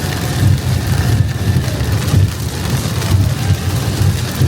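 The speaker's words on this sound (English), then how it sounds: "The rain's coming down" Rain pours steadily on a car driving a prairie highway near Saskatoon, Saskatchewan, a loud dense hiss over a low road and engine rumble, with no talking.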